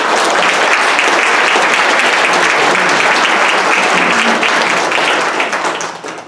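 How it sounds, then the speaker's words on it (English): A loud round of applause from a crowd at a luncheon, dense steady clapping that holds for several seconds before tapering off at the end. "But I'd like to give a round of applause to Charles for his steadfast support."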